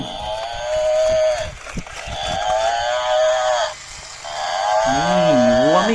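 A cow moos loudly and repeatedly at close range toward a toy buffalo, with three long drawn-out calls, the last one wavering.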